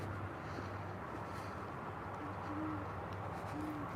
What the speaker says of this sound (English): Is there an owl up there?